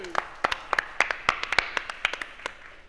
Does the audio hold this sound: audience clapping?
yes